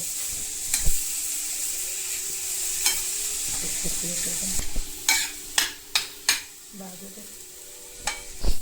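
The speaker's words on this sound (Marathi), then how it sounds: "कांदा चांगला लाल जर होईपर्यंत परतून घ्यायचा आपण जिरा पण टाकू आणि चांगला परतून घेऊ" Onions and cumin frying in a pan for a dhaba-style tawa egg masala, a steady close sizzle with repeated sharp scrapes and clacks of a spatula stirring through it, no voices.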